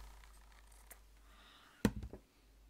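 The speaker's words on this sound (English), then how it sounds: "Let me just cut the corner off." A single crisp scissor snip cuts the corner off a trim for a doily book, a short close sound after a moment of quiet shuffling.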